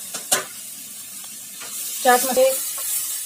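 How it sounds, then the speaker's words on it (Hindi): Green pea filling for puff pastry, seasoned with chaat masala, roasting in a pan: a few brief scraping stir strokes over a soft sizzle, close and short. "और इसे अच्छी तरह से भून लेंगे।"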